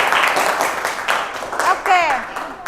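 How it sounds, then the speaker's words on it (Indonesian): Classroom applause for a student group, a short patter of clapping from many hands, with children's voices breaking through near the end. "Kasih tepuk tangan dulu untuk kelompok 1"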